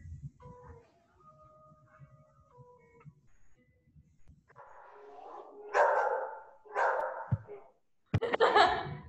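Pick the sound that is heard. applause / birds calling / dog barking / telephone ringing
dog barking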